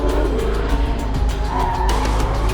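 A Porsche 918 hypercar's rear end breaks loose, tyres skidding and squealing over a loud continuous engine roar, close and sustained, with the pitch rising toward the end.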